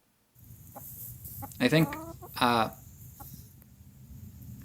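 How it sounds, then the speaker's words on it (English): Backyard chickens clucking in two loud bursts of rising calls, with faint clucks and rustling around them and a brief spoken remark in between. "send me video of her chickens"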